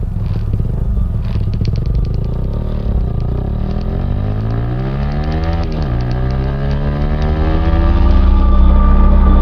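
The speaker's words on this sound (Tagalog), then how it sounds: "Musakay na kong balik sa akong motor." A motorcycle ridden at close range, its engine droning loud and steady with rising and falling pitch as it shifts and accelerates, growing louder near the end.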